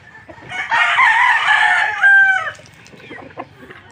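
A pet gamecock rooster crows once nearby, loud and clear: a long, drawn-out call rising to a sharp, high final note, then trailing off into soft clucks and faint background noise.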